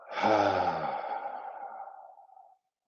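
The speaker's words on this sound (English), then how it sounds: "Take a long inhale in here and exhale out." A single long, audible breath is taken during a yoga relaxation pose. It rises quickly and then fades out smoothly over about two and a half seconds, heard close and alone with no speech.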